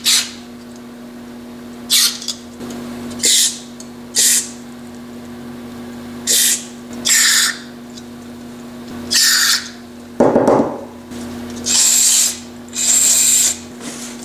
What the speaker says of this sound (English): now we're just gonna blow out all the jets